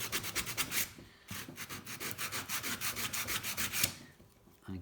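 A small bicycle part is hand filed in a steady rhythm of rasping strokes, about a dozen quick back-and-forth passes in two runs with a short pause between, close and fairly quiet.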